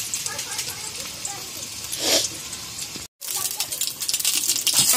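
Garlic and dried chillies frying in hot oil in a wok, a steady sizzle and hiss with a brief louder flare midway, a short cut, then continued crackling.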